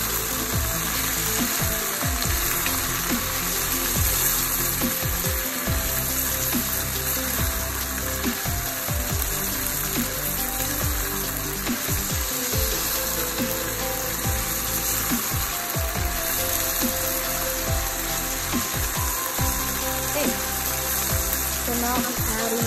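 Cashew chicken with string beans being stirred in a pan after oyster sauce goes in, with steady close sizzling and irregular scraping and clacking of a utensil against the pan throughout.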